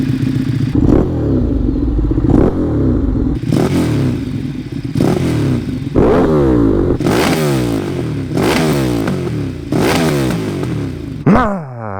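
Ducati Streetfighter 848 motorcycle on a test ride, its engine revving hard in repeated loud surges up to the limiter with gear changes between them, close up and dominant for the whole stretch.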